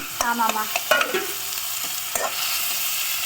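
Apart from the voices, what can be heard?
tomatoes added to hot pan, sizzling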